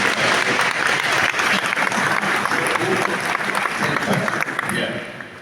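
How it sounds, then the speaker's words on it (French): Loud, sustained applause from a crowd fills the whole stretch, steady clapping that tapers slightly at the end. "vous pouvez l'applaudir"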